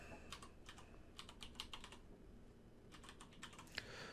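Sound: typing a web address on a computer keyboard

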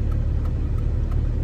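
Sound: grinding noise from a car's faulty axles or brake pads

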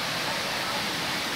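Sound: waterfall at Maden creek

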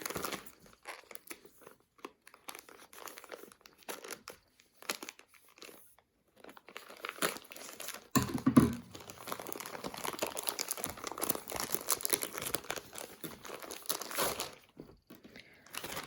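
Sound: opening and unwrapping a parcel from China

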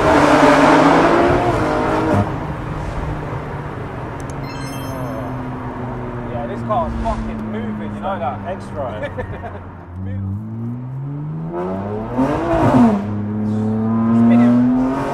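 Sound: 1000HP stage 3 BMW G80 M3 accelerating hard

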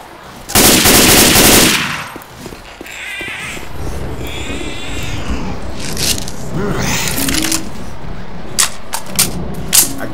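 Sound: gunfire in Left 4 Dead 2 video game

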